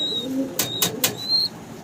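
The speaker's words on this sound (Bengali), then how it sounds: "লোটন লোটন কবুতর। অরিজিনাল কাশ্মীরি।" Lotan pigeons of the original Kashmiri breed coo softly at close range, low murmuring calls mixed with a few sharp bursts of flapping or scuffling and a thin whistling tone.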